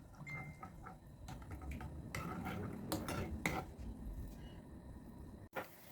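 Teriyaki eggplant being stirred in a pan, with a utensil scraping and clinking against the metal in an irregular rhythm, fairly close, over a low background hum.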